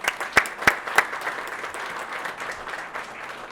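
An audience applauds award finalists at a family business of the year ceremony, a steady wash of clapping with a few sharp nearby claps standing out at the start before settling into even, sustained applause.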